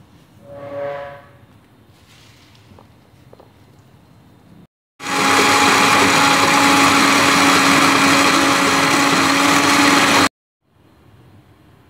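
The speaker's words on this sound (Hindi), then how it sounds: "तो अब हम नीम के पत्तों को ब्लेंडर में डाल देंगे।" A kitchen blender grinds freshly washed neem leaves into paste, starting abruptly and running as a loud, steady high-pitched whir for about five seconds before cutting off. A brief voice is heard earlier.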